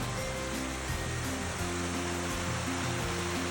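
Rainwater gushes down a small hillside along a trail in a strong continuous rush, a steady roaring flow heard close up and alone.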